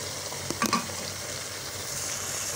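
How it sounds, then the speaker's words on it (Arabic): Meat and tomatoes fry together in a pot for a Moroccan couscous, giving a steady hiss of sizzling with a few light clinks of stirring near the start. "من بعد ما تشحر لينا اللحم دابا غادي نديرو مطيشه"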